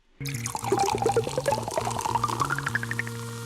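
A synthesizer imitating soda pouring into a glass, a bright continuous pour with rising bubbly tones that climb in pitch as the glass fills, loud and close with no other sounds.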